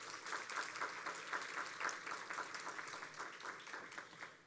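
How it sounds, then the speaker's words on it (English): An audience at a domestic violence community symposium applauds the panelists, a faint, steady wash of clapping from a seated crowd, sustained throughout. "Let's give our esteemed panelists a round of applause."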